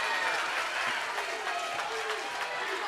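A high school basketball crowd at East Rankin vs. Leake Academy roars and applauds after a made basket, a steady, dense wash of cheering and clapping throughout.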